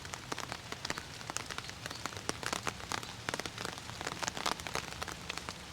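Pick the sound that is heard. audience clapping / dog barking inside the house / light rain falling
light rain falling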